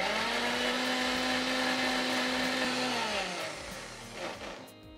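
A mixer grinder whirs steadily at close range as it blends neem leaves with mustard oil, its motor tone holding and then dipping and winding down near the end.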